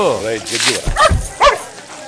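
A couple of short puppy barks or yips close by during a bath, mixed with whining vocal sounds.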